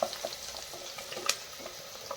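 Raw mango pieces hit hot oil and fry with a steady soft sizzle and crackle, faint and continuous, with a few small pops and stirring clicks.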